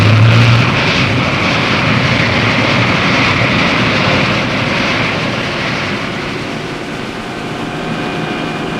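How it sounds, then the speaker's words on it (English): Marinized gas turbines drive a navy hydrofoil ship running foil-borne, giving a loud, steady roar and whine that fades slightly over several seconds, with no speech. "Marinized gas turbines provide the power required to keep the ship foil-borne."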